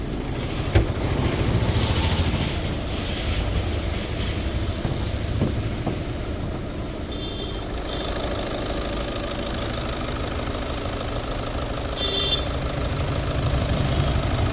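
Idling diesel engine of a 2018 Skoda Rapid, a steady low rumble with faint knocking that holds close and even throughout, with no talk over it.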